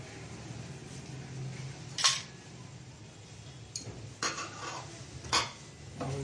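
Metal clanks of a lid set on a surgical stainless steel pot of boiling tea, a sharp clink followed by a few lighter rattles over a low steady hum.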